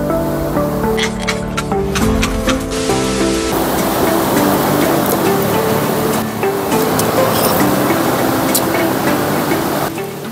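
A river in a forest flows steadily, a loud, continuous broadband rush of water filling the scene, with some tonal music-like layering over the first few seconds before the flow dominates alone.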